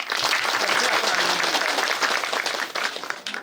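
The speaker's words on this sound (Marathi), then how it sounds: "आपण सगळ्यांनी त्यांच्यासाठी एकदा टाळ्या वाजवायच्या" An audience at a Diwali gift-giving event in a tribal village claps loudly and steadily, with dense applause filling the whole stretch and no pauses.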